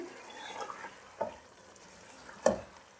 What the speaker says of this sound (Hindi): मीडियम फ्लेम पर रख के इसकी हम अच्छे से भुनाई कर लेंगे